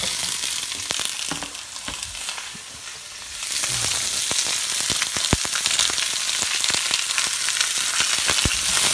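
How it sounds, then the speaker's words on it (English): Carrots, celery and onions tip into an oiled pan, and a soft frying hiss jumps to a louder, denser sizzle with crackles that continue steadily and close by, with no voices. "So I'm just going to take these vegetables and pop them in the same pan."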